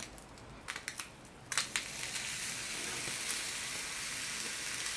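A spicy jerk shrimp burger patty frying in a pan, a steady hiss broken by a few crackling pops early on, then settling into an even, moderately quiet sizzle.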